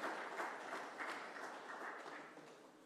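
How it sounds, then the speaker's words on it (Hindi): A crowd applauds at a political speech marking an Ambedkar Jayanti event, a steady dense clapping that stays fairly distant and gradually tapers off over a few seconds. "जोरदार तालियों के कड़कड़ ध्वनि के साथ में।"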